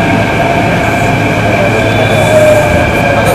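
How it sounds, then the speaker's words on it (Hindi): A Mumbai metro train moves past with a steady, loud rumble and a continuous electric whine, heard up close on the platform. "यहाँ पर देख सकते हैं कि मेट्रो जा रही है"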